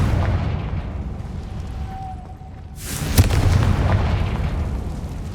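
A Confringo spell in the video game Hogwarts Legacy detonates as a single sudden booming explosion that rumbles away over steady game ambience, preceded by a faint whistling tone.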